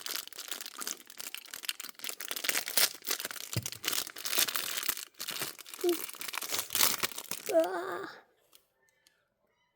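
Packaging crinkles, rips and rustles almost without pause for about eight seconds, close and fairly loud, with a short whispered or murmured voice near the end before it falls quiet.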